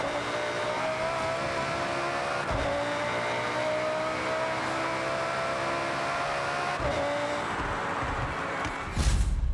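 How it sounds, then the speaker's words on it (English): Lamborghini Huracan engine in the Forza Horizon racing game, a sustained loud drone with rising and falling revs as the car drives, steady throughout with a short burst near the end. "I did end up picking the Huracan, the same car that was in Forza Horizon 2"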